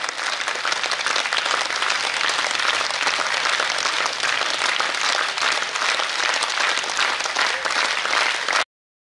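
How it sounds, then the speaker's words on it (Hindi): A large audience claps in dense, sustained applause that stays loud and even for several seconds, then cuts off abruptly, at a Sikh religious gathering. "आज की ये तालियां बाबा जोरावर सिंह जी के नाम"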